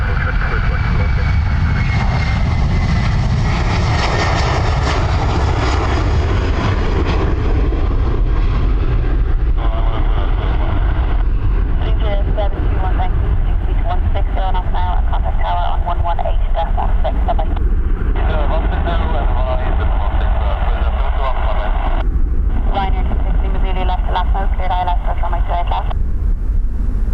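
A jet aircraft on the north runway at Dublin Airport, a loud, steady engine roar filling the whole recording, heard at fairly close range, with radio chatter and voices talking over it.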